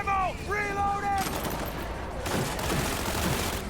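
A gunshot burst in Cyberpunk 2077 rings out after a brief stretch of in-game voice, then trails off into noisy combat ambience.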